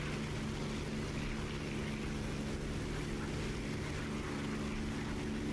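Spitfire propeller engine in the DCS flight simulator, a steady loud droning roar with a low throbbing hum, constant and unbroken throughout.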